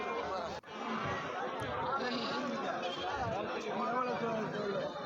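Sheep and lambs bleat over a busy crowd at a weekly goat and sheep market in Narikkalpatti, the calls rising through constant chatter and overlapping voices.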